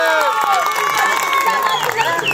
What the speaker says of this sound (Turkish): alkış yapın bakayım etsin